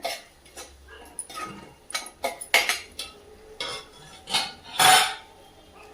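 A spoon scrapes and clinks through spice masala in a cooking pan for a Marathi drumstick dish, sounding in irregular close bursts with one loud scrape near the end.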